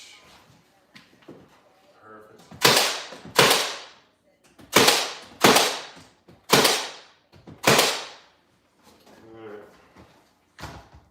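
A nail gun drives 3-inch nails into a barnwood feature wall: six sharp, loud pops in paired bursts about a second apart, close by, with brief talk before and after.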